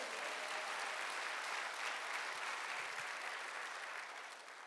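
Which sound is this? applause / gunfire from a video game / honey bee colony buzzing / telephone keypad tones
applause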